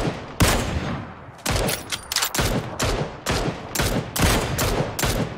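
Repeated loud bursts of gunshots in PUBG, sharp volleys arriving at a steady rhythm, close and dominant with no talk over them.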